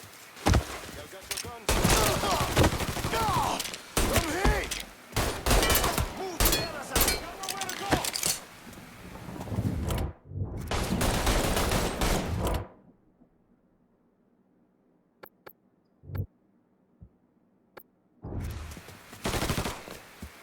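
Gunfire in the Mafia 3 video game: loud bursts of rapid shots and automatic fire come close together, then a quiet lull broken by a few sharp isolated shots before another burst.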